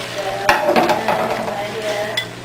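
A fork whisks an egg against the side of a bowl, making a brisk, scraping stir with scattered light clinks. It is moderately close and steady, with a sharper knock near the start.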